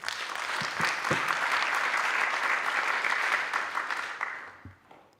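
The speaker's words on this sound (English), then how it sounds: "I think we need to clap hands for that" Conference audience at a TVET college clapping, a steady wash of applause sustained for about four seconds before thinning and fading out at the end.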